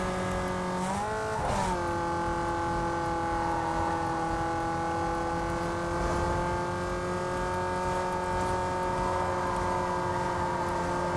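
Steady engine hum of a car in the racing video game Need For Speed Most Wanted, a droning tone with a brief pitch dip near the start as the car takes a corner, then holding steady and loud.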